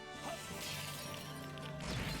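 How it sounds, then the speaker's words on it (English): A self-destruct explosion in the video game Trails in the Sky FC bursts loudly near the end over steady in-game music, preceded by softer crashing battle effects. "that is the most powerful self-destruct in the game"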